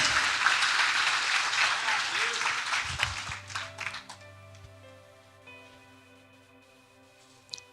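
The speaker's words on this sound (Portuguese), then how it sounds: "Aplauda o Senhor pela vida desses homens aí." A church congregation at a Sunday celebration service applauds in a loud burst of dense clapping that fades away over several seconds. A sustained keyboard or organ tone comes in underneath as the clapping dies out.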